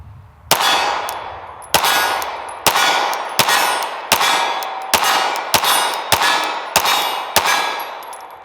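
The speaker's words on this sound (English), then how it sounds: "now let's shoot the 365X" Ten sharp shots from a SIG Sauer P365X pistol ring out at steady intervals of under a second, each a loud crack with a brief metallic ring and no talking between them.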